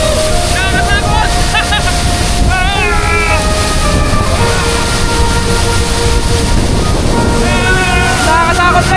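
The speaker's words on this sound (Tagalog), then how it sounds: "Ang lakas ng bagsak ng tubig!" Tekip Falls, a waterfall in Bakun, Benguet, sends water crashing down in a loud, unbroken roar mixed with strong wind buffeting the microphone, while excited voices call out over it.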